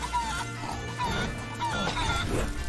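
Chicken clucking in the video game Guacamelee! 2, a run of short clucks and squawks repeating over busy game music and effects.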